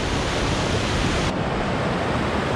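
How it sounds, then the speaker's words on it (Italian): The Rio Arno in full flood rushes past at a mountain waterfall around 1700 m, a loud, steady, close roar of churning water with no voices. "Rio Arno bello in piena."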